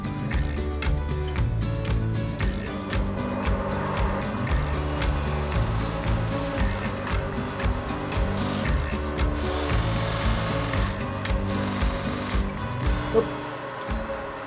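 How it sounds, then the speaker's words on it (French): Wood pressed against a spinning cotton buffing wheel loaded with polishing paste at a knife-making workshop, a steady whirring rub with shifting friction tones running continuously throughout. "L'idée, ça va être de venir frotter le bois sur l'outil."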